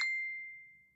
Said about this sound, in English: my phone's always dinging.